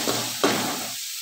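Onion and tomato sauté in a pan for a simple kurma, with a short hissing sizzle, one sharp knock-like scrape partway through, and a sudden drop to near quiet at the end.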